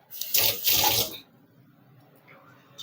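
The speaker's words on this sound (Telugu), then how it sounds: "ఈ నీళ్లు పోయాలి, నేను మర్చిపోయాను." A short, loud splashing gush of water pours into a pressure cooker for vegetable rice with coconut milk, lasting about a second before dropping to quiet room tone.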